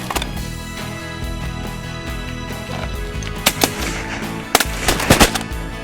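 Shotgun blasts fired at flying ducks on a South Dakota duck hunt, several sharp loud reports in a quick cluster near the end after a steady outdoor background, with geese or ducks calling faintly.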